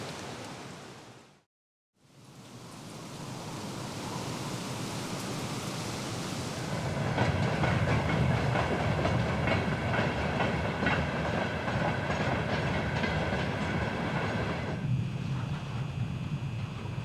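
Trains passing on railway tracks in Kazakhstan, a steady roar of rolling wagons with rhythmic clickety-clack that swells after a brief silence and keeps rumbling close by.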